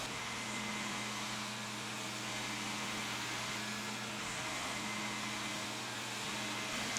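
A Proscenic M6 Pro robot vacuum runs steadily across a room, a constant mid-level motor whir with a low hum and airy hiss, unbroken and without talk.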